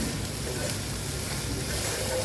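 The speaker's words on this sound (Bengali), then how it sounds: "তারপর এই মশলাটা আমি ভালো করে ভেজে" Spice paste frying in oil for a prawn and pointed gourd curry with yogurt, a steady close sizzle with faint stirring scrapes throughout, no voices.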